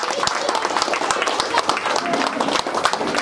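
A crowd claps loudly at a women's community Durga Puja inauguration in Salt Lake, with dense, rapid applause that fills a few seconds and has talk mixed in.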